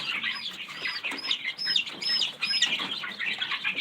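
Young chicks in a brooder chirp repeatedly in high, thin peeps, with wing flutters and light scuffling close by, a steady busy chatter throughout.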